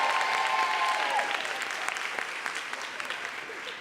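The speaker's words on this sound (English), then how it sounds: "Give them a big round of applause." An audience gives hearty applause for the graduating class of 2017 at a ceremony. The dense clapping starts full and gradually tapers, with faint voices audible beneath it.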